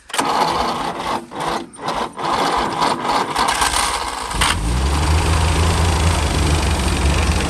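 A GAZ-51 truck engine cranks with uneven bursts, then catches at about four and a half seconds and settles into a loud, steady, low idle.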